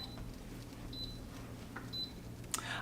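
An Instant Pot pressure cooker beeps in a home kitchen, with two short, thin electronic tones about a second apart, moderately clear over a low steady hum.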